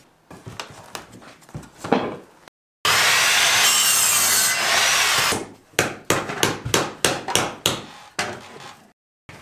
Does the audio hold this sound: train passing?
no